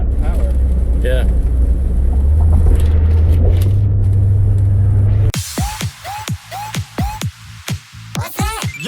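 A Corvette's 205-horsepower small-block 350 V8 at a racetrack idles with a steady, deep rumble for about five seconds, then voices break in with short exclaimed calls over a quieter engine.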